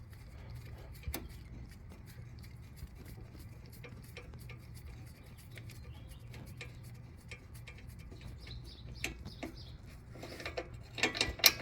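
A ratchet turns a 12 mm bolt holding the brake line to the strut on a Honda Pilot, making faint, quick, irregular clicks close by in a quiet workshop, which grow sharper and louder near the end.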